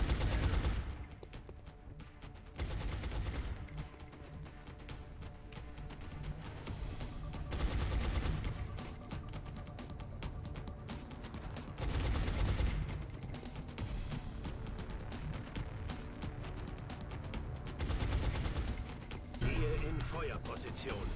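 Suppressive gunfire in the XCOM Long War strategy game comes as repeated bursts of rapid automatic fire in waves over about twenty seconds, mixed with game sounds and voices talking over it.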